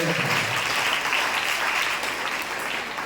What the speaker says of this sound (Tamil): நல்ல ஒரு கரவொலி எழுப்பி பாராட்டு தெரிவிப்போம்.